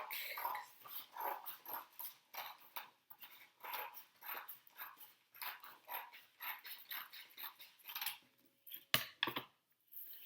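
Scissors snip through paper along a drawn line for a May Day basket craft, a close series of rhythmic crisp cuts with short pauses between strokes.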